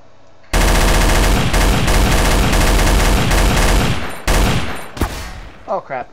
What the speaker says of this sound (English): Oh crap, who's shooting at me?